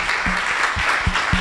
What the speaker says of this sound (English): So some applause maybe for them.